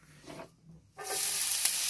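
Onion frying in oil in a Teflon pan gives a steady, loud sizzle that starts abruptly and carries on, preceded by a brief quieter stir.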